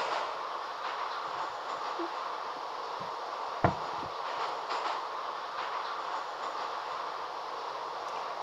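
A steady rumbling hum of a Moscow metro train rolling along rails from inside a carriage, with a single sharp clank partway through.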